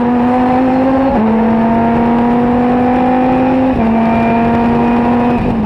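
Race cars, a Ferrari and a front-engined Viper, roar loud and near downhill through a double left-hander at Spa Francorchamps, engine notes holding sustained tones with brief shifts in pitch.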